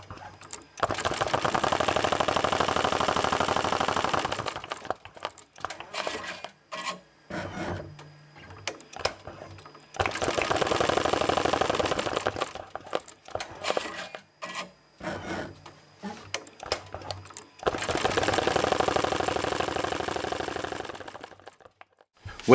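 A Smartstitch embroidery machine stitches a hat in three long bursts of fast, rattling needle runs, with brief pauses and clicks between them. The machine is close and fairly loud, and no one speaks.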